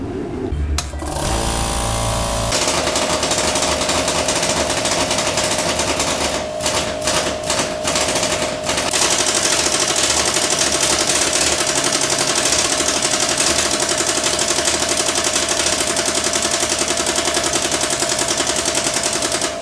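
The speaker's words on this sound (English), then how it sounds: "So those bolts are not coming unstuck with just that little impact wrench." A small impact wrench hammers at stuck T55 fuel pump bolts on a Ford Ranger, a loud, continuous rattling burst that keeps running without pause, briefly interrupted by a few sharper knocks partway through.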